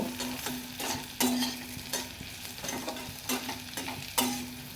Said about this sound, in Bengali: ভালো করে আমি নেড়ে চেড়ে নেব।